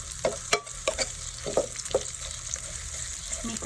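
Onions sautéing in a pan with garlic, a steady hissing sizzle broken by quick stirring scrapes and taps, close and moderately loud, with no talk.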